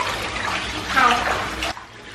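Hot water runs into a tub being filled for a home water birth, a steady rushing splash that stops abruptly near the end, with voices heard during the filling.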